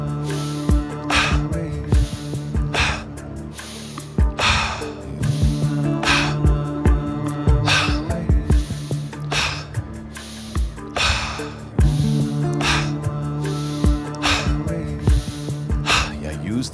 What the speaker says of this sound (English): this is going to be a strong exhale